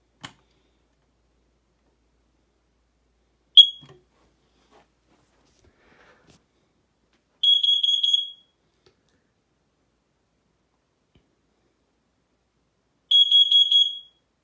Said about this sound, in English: this smoke alarm is going to be really loud.